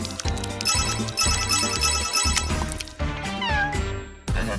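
A cat meows, with meow-like tones over busy music and effects, loud and close, and no speech on top.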